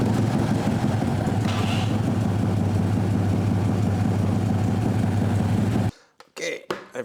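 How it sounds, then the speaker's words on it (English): A Harley-Davidson Tri Glide three-wheeled motorcycle idling, a steady low engine rumble that cuts off abruptly near the end, followed by a few brief knocks and handling sounds. "We're going to have to start the bike to show you how the backup lights work."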